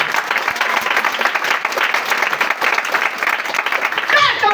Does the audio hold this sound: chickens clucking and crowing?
no